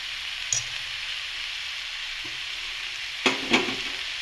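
Cabbage frying with green chili paste crackles in a soft, steady sizzle, broken by a few sharp scraping stirs of a spoon against the pan, nearby and fairly quiet, with no talking.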